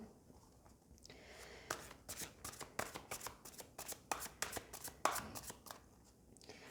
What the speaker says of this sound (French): Je mélange doucement parce que ces cartes sont vraiment trop grandes.